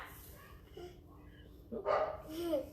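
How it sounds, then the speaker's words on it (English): A couple of short dog barks sound slightly off-mic over a quiet room, with a faint yip between them. "You can probably hear my dogs barking too."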